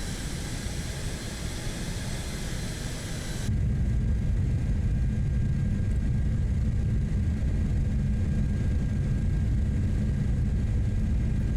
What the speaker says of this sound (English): Let's see how quickly we can transition to a full stop landing here.